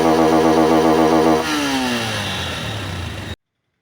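A Honda CB200X motorcycle fitted with a K&N performance air filter revs up loudly nearby, then drops back toward idle as the engine note falls and fades.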